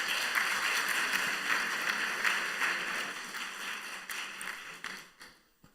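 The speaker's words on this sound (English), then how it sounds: "Please welcome him with a big round of applause." Applause from a conference audience at a global peace education event: a dense, sustained wash of many hands clapping that holds steady, then thins and fades out at the end.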